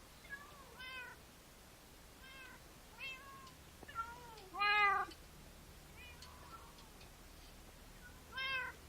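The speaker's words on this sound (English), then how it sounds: "So are these Wither Kitties?" Wither Cats in modded Minecraft give a series of separate synthetic meows, some faint and some louder, spaced a second or two apart over a quiet background.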